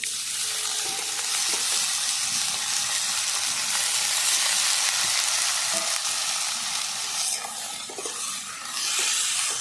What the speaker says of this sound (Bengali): একই সঙ্গে আমি ভালো করে ভেজে নিচ্ছি সব।